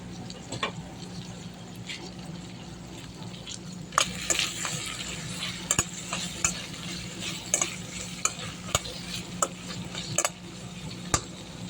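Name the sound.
brinjal frying in oil, stirred in pan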